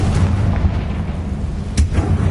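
A Confringo blasting curse goes off in Hogwarts Legacy: one sharp, loud blast near the end that rises over a steady low rumble, with no talking.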